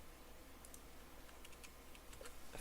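Quiet typing on a computer keyboard, scattered soft key clicks in small irregular bursts over a faint steady hum.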